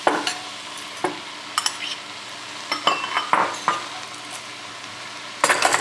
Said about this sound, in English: we'll just kind of mix that all together and add the mushrooms